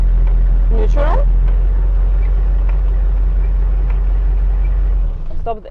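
A 1986 Humvee, a U.S. military vehicle, idles with a steady low rumble that runs loud and continuous, then cuts off near the end; a voice speaks briefly over the engine early on.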